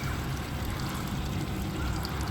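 Water runs steadily through a Smartteck Black instant hot water heater, a constant close rushing pour with no breaks and no talking.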